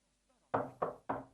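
Three firm knocks on a wooden door, evenly spaced and fairly close, each a sharp thud with a short decay, heard alone in a quiet room.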